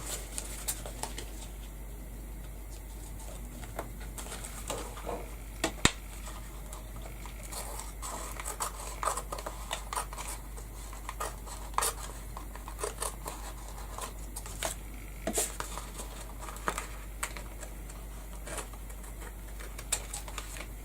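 Scissors trim paper-craft material in short bursts, sharp crisp snips scattered irregularly over a quiet background hum, close and fairly soft, with no talking.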